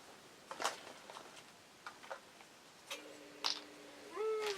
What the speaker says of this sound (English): That's the clock if you're wondering what the weird bird noise is.